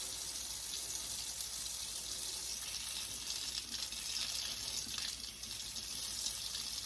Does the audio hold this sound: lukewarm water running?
yes